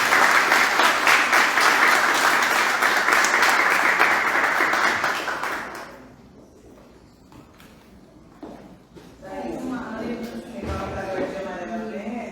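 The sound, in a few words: audience applause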